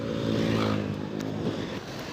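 A stock Honda Click 125 scooter with center spring and flyball changes, its engine held at partial throttle and pulling hard. The drone is loud, close and continuous, with a steady buzzing tone across the whole stretch.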